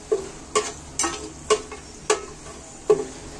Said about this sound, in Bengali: মশলাগুলো ভেজে নিচ্ছি।